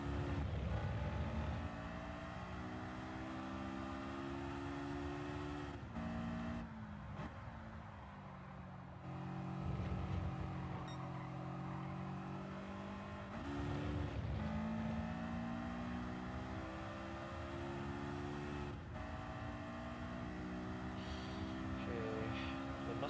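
Race car engines in the Gran Turismo 7 video game, with an NSX, a 911 RS, a Mustang and a Clio on track: a loud, continuous drone of revving engines with pitch rising and falling as gears shift.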